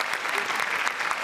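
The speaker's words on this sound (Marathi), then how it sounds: "जोरदार टाळ्या महेश सरांसाठी." A studio audience on a Marathi TV comedy show breaks into loud, dense applause, a steady wash of clapping that holds for the whole moment with no break.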